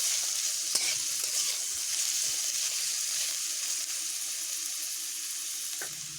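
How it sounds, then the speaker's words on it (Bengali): Potatoes frying in a pan with a constant bright sizzle, a couple of spatula knocks cutting through the steady hiss. "আলুগুলোকে একটু বেশ ভালোভাবে ভেজে নেব"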